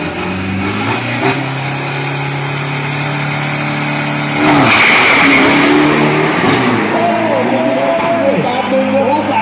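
A 3000 turbo pickup truck on Nitto radial tyres revs hard at a drag racing event, its engine climbing and then roaring louder up close. An announcer talks over the engine throughout.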